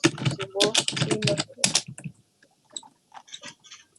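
Soft clicks from a computer keyboard tap out in short bursts during a Minecraft KitPvP session, faint and close, following a stretch of talk.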